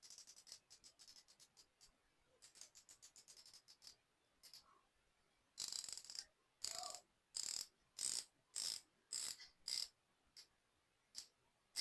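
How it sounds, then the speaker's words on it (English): The rotating bezel of an Invicta Pro Diver 1953 watch ratchets close up: rapid runs of tiny dry clicks, then slower, louder separate clicks in an even rhythm, alone in quiet. "Let's hear what the bezel actually sounds like."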